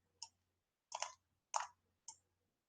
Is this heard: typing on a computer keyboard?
yes